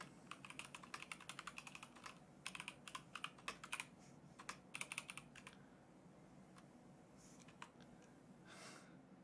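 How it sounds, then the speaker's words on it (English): Quiet clatter of typing on a computer keyboard in bursts of rapid keystrokes with short pauses, close and soft, with some faint breathing in the background. "I'm going to type it in chat."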